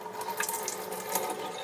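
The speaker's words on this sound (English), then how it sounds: "After we drain them, we're going to go ahead and rinse them one last time" Water splashes and trickles steadily while sprouting seeds are rinsed and drained in a mason jar, a close, continuous running sound like a tap filling a sink.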